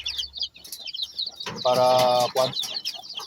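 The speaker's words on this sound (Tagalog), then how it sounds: "Yung mga bagong sisiw to, dalawang inahin." Native hens clucking among newly hatched chicks, with a burst of loud hen calling in the middle and high chick peeps throughout; a voice speaks briefly.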